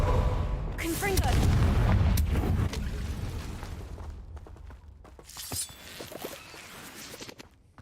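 A Confringo fire blast spell in Hogwarts Legacy bursts loudly with a shattering boom and roaring rumble in the first seconds, then fades into scattered crackles and smaller impacts.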